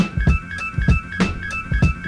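A looped, pitched-up vocal sample rides over a hip-hop beat with steady, punchy kick hits and a sustained bright tone; no one speaks.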